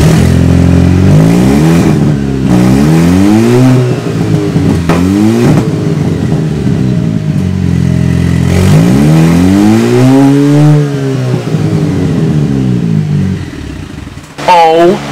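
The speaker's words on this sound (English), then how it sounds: "Just removing the second catalytic converter made it so much louder." Alfa Romeo engine with its second catalytic converter removed, revved repeatedly in loud, rising and falling bursts with a raspy exhaust note, heard up close and alone.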